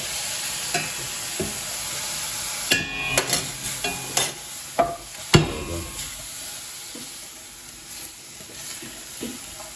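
Prawns frying in a pan with prawn stock added, scattered sizzle, stirring scrapes and clatters over a steady hiss, close and moderately loud, with no talk.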